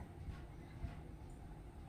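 A passenger train travels on rails between Kallayi and Tirur in monsoon weather, heard as a faint, steady rumble from inside the coach with soft periodic wheel thumps.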